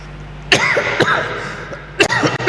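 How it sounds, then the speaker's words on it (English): A preacher coughs hard several times in close succession, then coughs again in a second short cluster, each one loud, harsh and near, in a quiet room. "How many of you can hear me coughing?"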